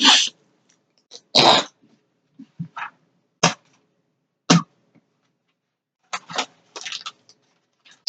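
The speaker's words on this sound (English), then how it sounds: "Had to clear my throat." A handful of short, harsh throat-clearing bursts with brief pauses between them, close and fairly loud, with no talking.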